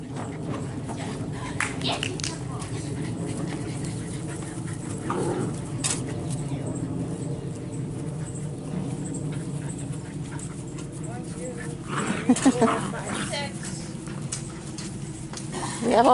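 Eight-week-old puppies yip, whimper and bark in short bursts outdoors, mixed with people talking and calling to them and a steady background drone, with a louder flurry of yips near the end.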